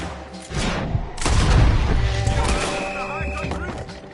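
Loud gunfire and heavy booms erupt in a Red Dead Redemption 2 shootout, with sharp shots and thuds over a rumbling background while characters talk.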